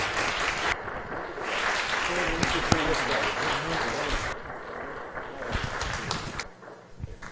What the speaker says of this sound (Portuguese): Queria pedir uma salva de palmas aí para o nosso palestrante.